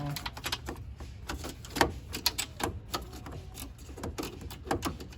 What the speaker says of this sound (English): I got me a ratchet wrench. It's a 13.